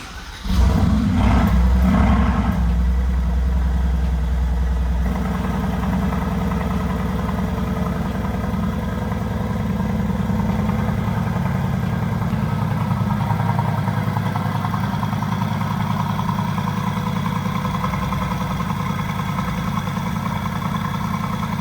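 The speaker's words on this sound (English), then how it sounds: "Now we're gonna do something that we were waiting for 3 days to do" A Mercedes-AMG GT C V8 on a cold start, a loud flare at first that settles after a few seconds into a steady, rumbling idle, close and continuous.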